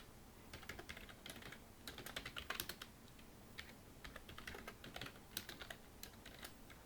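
Computer keyboard keys, including the arrow keys, tapped in quick irregular clusters, crisp close clicks with short pauses between bursts, no voices.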